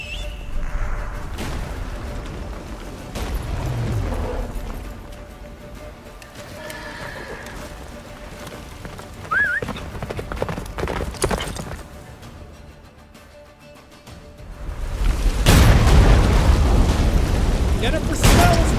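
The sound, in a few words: horse galloping hooves, Witcher 3 video game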